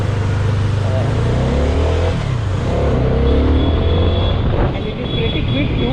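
Keeway K300R motorcycle accelerating on the road, a loud, close engine note rising in pitch with rushing wind noise throughout.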